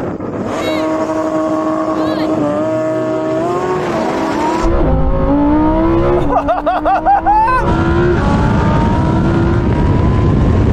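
Ferrari 488 Pista, Lamborghini Huracán STO and Porsche 911 GT3 accelerate hard in a drag race, loud engine notes climbing through gear changes with a rising, shifting whine and a brief burst of rapid revving mid-run, with voices over it.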